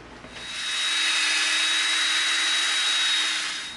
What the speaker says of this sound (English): we're going to drill through this hole with a drill bit